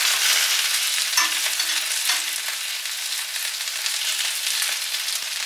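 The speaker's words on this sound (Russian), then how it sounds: "Выкладываем на разогретую сковородку обжариваться" Sesame-battered chicken fillet fries in a hot pan with oil, giving a loud, even, hissing sizzle that carries on without break.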